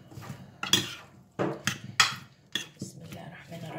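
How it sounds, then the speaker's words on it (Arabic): A spoon clatters and scrapes against a baking tray as fish, onion and carrot are tossed with olive oil. The knocks come in a loose series, close and fairly loud, with someone talking between them. "وهقلب الخلطه دي كلها مع بعض كده"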